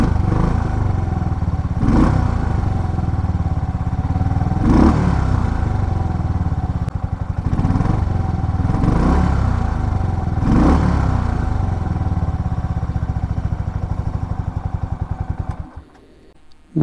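An RPS Condor 150cc motorbike fitted with a 16-tooth front sprocket and 98 main jet runs steadily, its engine rising and falling in several rev surges before dropping to a low idle at the end; no talk.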